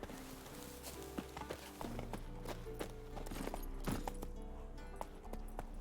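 Horse hooves clip-clop steadily at a walking-to-trotting pace in The Witcher 3, moderately close and rhythmic over a game soundtrack, with occasional brief voices.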